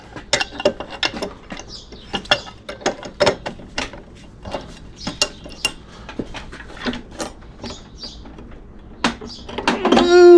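Wrench clicking in irregular bursts while turning a part from a BOHN walk-in cooler evaporator clamped in a vise, close and fairly quiet, ending in a louder scraping squeal as the part starts to spin.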